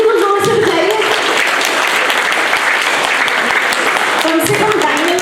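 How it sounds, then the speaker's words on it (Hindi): During a stress-management session in Delhi, an audience claps loudly and continuously, a dense and even roar of hands, with voices calling out over it at the start and end. "तालियां को जोर से बजाइए।"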